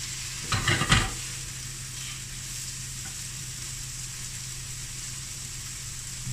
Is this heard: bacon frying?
yes